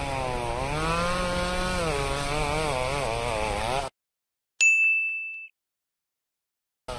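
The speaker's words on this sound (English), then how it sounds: "Farmer Dre starts up his chainsaw." A chainsaw cutting fallen branches off a tractor drones with a wavering, revving engine pitch for several seconds, then cuts off, followed by a sharp metallic ding that rings briefly.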